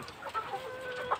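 Large ornamental chickens, American Australorp and Brahma breeds, clucking softly and intermittently at close range on a small poultry farm, with brief higher calls rising over a low background hum.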